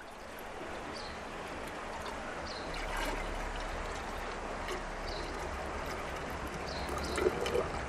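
Water poured from a container into a measuring cup to top up a brew of foraged weed leaves, a steady close trickle and splash running nearly eight seconds with slight gurgles, no talking.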